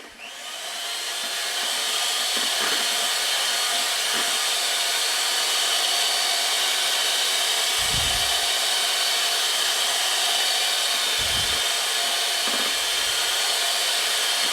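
An electric mixer whirs on high speed, beating cake batter for a four-layer raspberry cream cake; the loud, steady motor drone ramps up at the start and then holds, with a few low bumps against the bowl.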